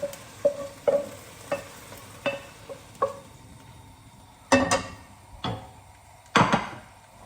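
Beef stir-frying in a pan for Mongolian beef, a quiet sizzle under a series of sharp spatula clacks and scrapes, first evenly spaced and then heavier and more clustered toward the end, no voices.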